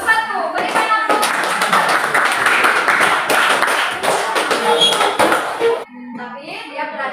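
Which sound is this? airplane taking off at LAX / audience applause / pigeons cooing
audience applause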